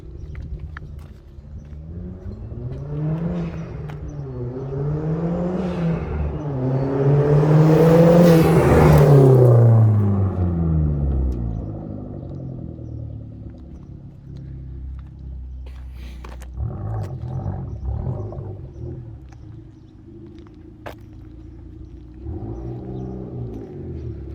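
A Hyundai Genesis fitted with a test pipe exhaust approaches from a distance, swells to a loud roaring rev as it passes close by, then fades away, followed by further engine droning afterward.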